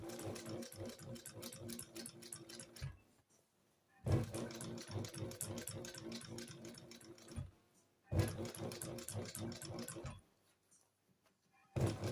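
A sewing machine stitches leather seat covers in three bursts of fast, even mechanical rattling, each lasting a few seconds and separated by short near-silent pauses, heard up close.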